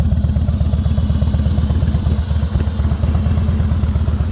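A Harley-Davidson motorcycle engine runs steadily up close, its loud, lumpy low-pitched firing pulses repeating evenly throughout with no voices.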